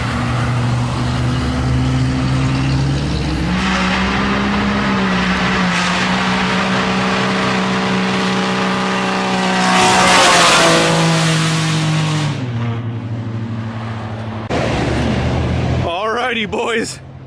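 A 750-horsepower Duramax diesel pickup, formerly a stock grandpa truck, revs loudly and steadily with rising and falling engine pitch, talk running over it throughout.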